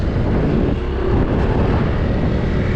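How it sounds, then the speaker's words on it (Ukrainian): A 2024 Honda Stylo 160 ABS scooter engine idles quietly, a smooth steady hum with some wind noise over it and no speech. "Тихенько так працює двигунчик."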